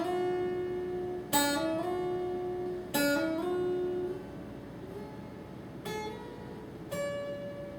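Finger-picked acoustic guitar playing slides up and down the neck, with sharp plucked attacks at a few spaced points and ringing notes that glide in pitch between them, played close and alone.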